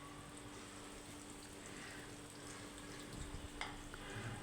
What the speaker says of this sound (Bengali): তো এখন আমি কাবাবগুলো একদম হালকা তেলের মধ্যে ভেজে নেব,